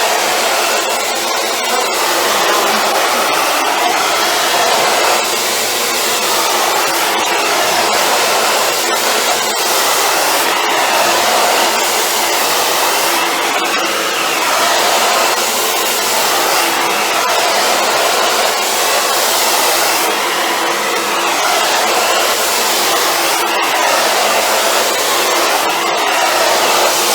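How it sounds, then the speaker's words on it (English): A hair dryer blows steadily on long frizzy hair, a loud, close, continuous whoosh that keeps running the whole time, with small shifts in tone as it moves across the hair. "I will blow dry it straight to the back so we have it nice and rounded."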